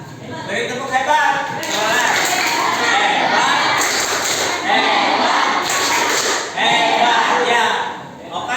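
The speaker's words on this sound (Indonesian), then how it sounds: "oh iya, beri tepuk hebat." Schoolchildren in a classroom lesson clap and shout a rhythmic praise chant together, a loud, busy burst of voices and hand claps that holds steady with brief dips.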